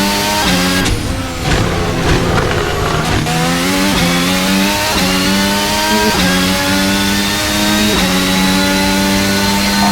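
A high-revving Formula 1 car engine in a racing video game screams continuously, its pitch climbing through rapid gear shifts and dropping back, again and again, loud and close.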